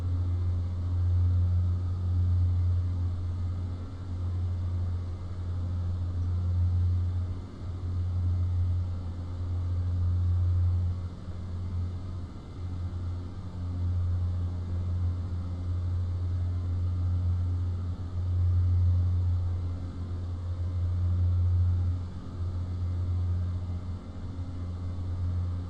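Steady, loud drone of a Piper Seminole twin-engine light airplane heard from inside the cabin on approach to landing, a low engine hum with a constant rumble running unbroken throughout, with no voices.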